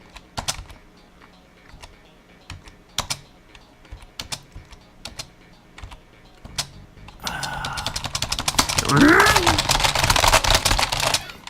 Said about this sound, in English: There's nothing quite like the sound of somebody mashing a keyboard.